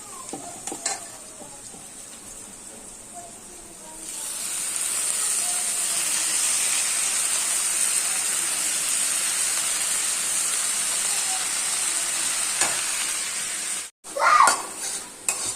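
Leafy greens sizzle and hiss steadily in a pan of fish oil, a continuous loud frying sound with occasional stirring and a brief clatter of utensils near the end.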